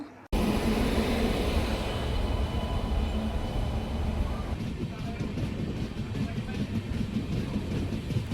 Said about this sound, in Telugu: ట్రైన్ కూడా వచ్చేసింది చూసేయండి